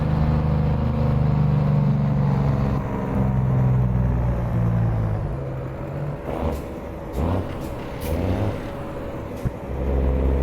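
Modded truck engine in American Truck Simulator drones steadily at a low pitch throughout, the same sound held the whole way, with brief hissing bursts like air brakes near the end.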